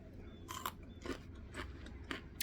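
Someone bites and chews a crunchy homemade fermented dill pickle, giving a few close, soft crunches at an even pace in a quiet room.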